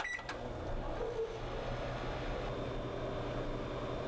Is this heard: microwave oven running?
yes